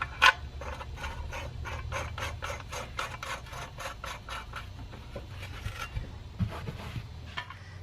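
A bolt being tightened down through the stacked pieces of a punch and flare dimple die tool, giving a run of faint, evenly spaced rasping clicks that carry on steadily without any talk.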